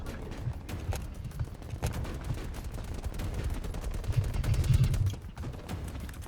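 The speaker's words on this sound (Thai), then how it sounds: "ยิงนัดเดียว ไอเรายิงจนหมดแม็กล้านเลย" Rapid bursts of gunfire from Call of Duty Black Ops Cold War crackle nearly nonstop, with sharp repeated shots and a dense automatic stretch building toward the end and no talk.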